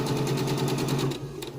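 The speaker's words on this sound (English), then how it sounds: "Go ahead and make a straight stitch" A sewing machine runs steadily through a straight stitch while securing fabric for a zipper, a fast even mechanical whir with rhythmic needle pulses that slows and trails off near the end.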